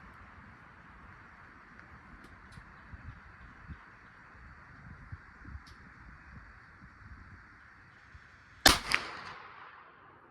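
A single loud rifle report from a '98 Mauser fired on a shooting range, cracking sharply near the end after a long stretch of quiet outdoor ambience with faint rustling, followed by a brief echoing tail.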